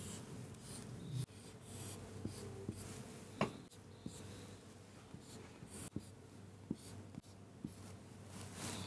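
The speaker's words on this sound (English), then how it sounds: "so I'm writing the nodes." Marker or pen writing tree nodes by hand on a board, with close scratchy strokes in irregular bursts and occasional taps, no talking.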